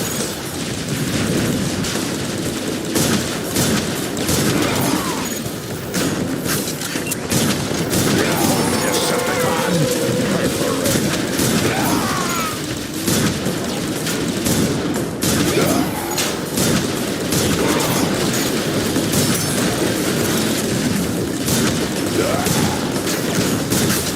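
Dense, continuous weapon fire from Transformers War for Cybertron, blasts and rapid shots piling into a loud, unbroken barrage with booming impacts, and brief voices shouting through the din.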